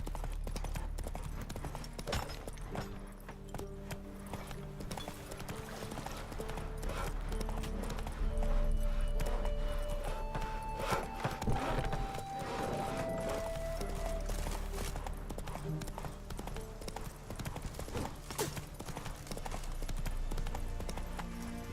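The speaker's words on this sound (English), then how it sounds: "Run, Roach." A horse gallops in a video game, with rapid rhythmic hoofbeats running steadily throughout, moderately loud over a low background of game ambience and music.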